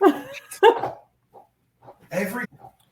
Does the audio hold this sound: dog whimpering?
yes